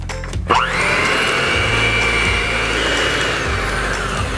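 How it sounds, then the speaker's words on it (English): An electric hand mixer whirs up and runs steadily while beating butter and powdered sugar for shortbread, a loud, close motor drone with the beaters scraping through the mixture. "Take an electric hand mixer and beat it until it's really fluffy."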